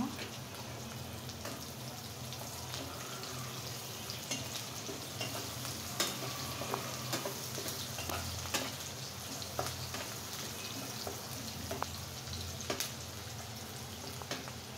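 Whole cumin seeds sizzle and crackle in hot oil in a pan, a steady broadband frying hiss with scattered sharp pops throughout, close and continuous with no talking.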